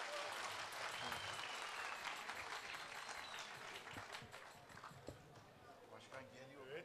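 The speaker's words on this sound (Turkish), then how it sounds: "Alkış. Büyük alkışlarınızla." Crowd applause at an outdoor folk concert during a cherry festival as the mayor is called up, a dense, steady wash of clapping from a large audience that holds throughout at some distance.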